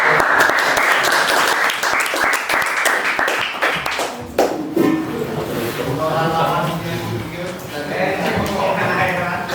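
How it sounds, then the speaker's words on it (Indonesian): An audience at an Indonesian discussion session gives dense, steady clapping for about four seconds. The clapping then thins out and fades as a voice starts speaking. "Dan beri tepuk tangan."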